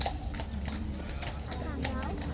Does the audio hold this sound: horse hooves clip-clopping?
yes